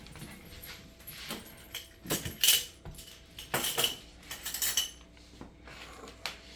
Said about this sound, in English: So let me get the spoons.